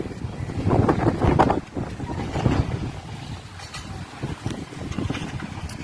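Steady wind blowing and buffeting outdoors in drizzly weather, a continuous rumbling gusty roar with no voices.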